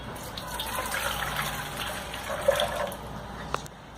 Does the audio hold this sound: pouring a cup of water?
yes